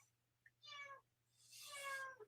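Two drawn-out meows from a cat, the second louder and longer, heard alone over a low steady hum.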